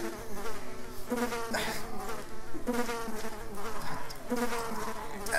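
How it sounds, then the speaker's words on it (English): Wasp buzzing in a machinima video game, a steady insect drone that swells and pulses throughout, fairly loud and close with no talk over it. "Darn Wasp!"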